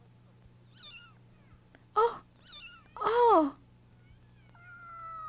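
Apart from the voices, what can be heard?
cat meowing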